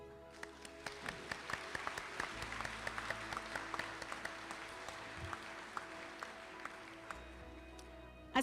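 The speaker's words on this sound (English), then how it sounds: "give a round of applause for the people here to support you" A graduation crowd at a Calhoun Community College commencement claps in a faint, steady patter, heard from a distance with scattered sharper claps standing out.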